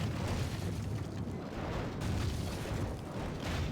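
Artillery fire from siege guns in a Total War mod battle with the Dwarves of Erebor against the Castellans of Dol Guldur: rumbling booms and explosions roll on continuously at a distance, fairly quiet and dense, with no talk.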